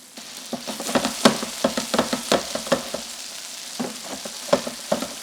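Asian-style turkey meatballs frying in oil in a pan, a close, crackling sizzle with repeated soft bumps and scrapes as they are moved around.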